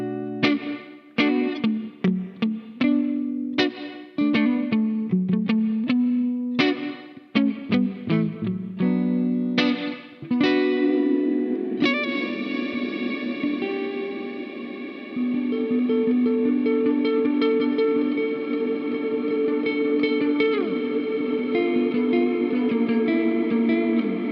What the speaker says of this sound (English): it's their trademark big hall reverb algorithm, with almost infinite reflections and decay